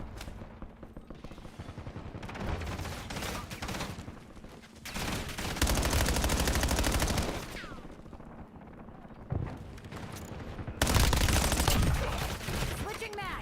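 Gunfire in the video game Call of Duty: Black Ops 7 comes in rapid automatic bursts and heavy blasts, loud volleys separated by quieter stretches, with game voice lines mixed in.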